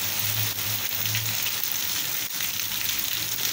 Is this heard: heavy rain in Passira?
yes